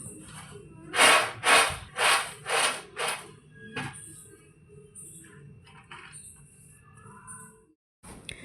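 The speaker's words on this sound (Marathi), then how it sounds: "इथे मी भाजून घेत होते शेंगदाणे" Peanuts dry roasting in a pan, with about five loud rhythmic scraping strokes followed by quieter, scattered rustling and clinks.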